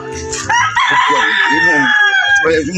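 A rooster crows loudly and close by, a long drawn-out call filling the whole moment.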